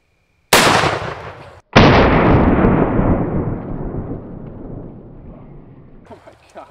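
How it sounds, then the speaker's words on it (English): A Black Aces Tactical Pro Series L lever-action 12-gauge shotgun fires two heavy 3-ounce slugs close by, each blast sharp and very loud, the second boom rolling away in a long echoing decay across an outdoor range. "By the way, this is the Black Aces Tactical Pro Series L lever action shotgun"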